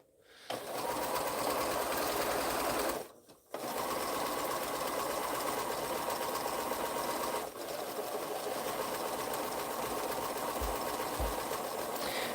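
Sewing machine piecing quilt blocks, running in loud continuous bursts with a brief pause near the start and a short dip midway, close and alone.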